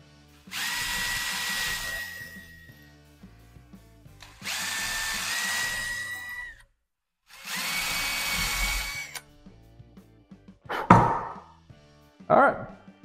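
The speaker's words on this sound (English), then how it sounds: "now to be safe, I'm gonna drill it home" A power drill runs in three separate bursts of a few seconds each while drilling pilot holes in a guitar body, with pauses between, followed by a couple of sharp knocks.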